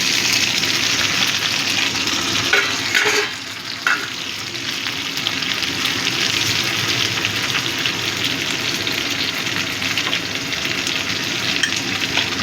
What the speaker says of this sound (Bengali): কুঁদরিটা ভালো মতো ভাজা হয়ে গেছে।